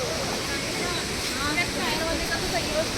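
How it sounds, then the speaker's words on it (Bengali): Mountain waterfall near Gangtok pouring down a hillside, a steady broadband rush of falling water heard close and continuous, with faint voices in the background. "ঝর্ণার জলটা নামছে এখান দিয়ে।"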